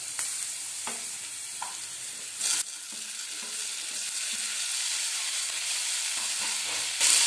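Tomatoes go into a hot pan of cooking egg bhurji, giving a steady soft sizzle with occasional stirring clatters and a couple of brief louder scrapes, fairly quiet and close, with no talking.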